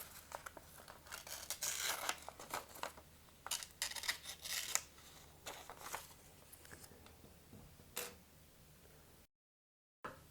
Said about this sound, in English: I'll demonstrate the sharpness of the blades on this paper.